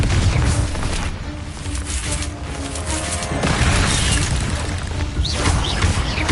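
Explosive Confringo spell blasts in Hogwarts Legacy, a loud, dense run of booming, crashing bursts with rumbling debris that fills the whole stretch without pause.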